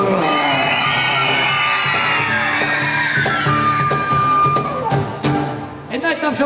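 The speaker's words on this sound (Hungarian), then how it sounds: "nagyon ügyesen sikítottatok" Crowd of voices shrieking together in one long sustained scream that trails off into scattered shouts and laughter.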